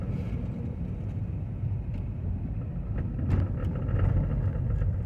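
A car creeps slowly over a bridge on a snowy Alabama road, a steady low engine and tyre rumble that swells slightly toward the end, with faint ticks of wipers running.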